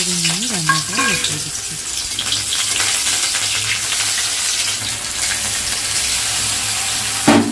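Spice paste of ground garlic, ginger, chilli and onion fries in a pan, a loud, close, steady sizzle with stirring scrapes and a brief clatter at the start and end.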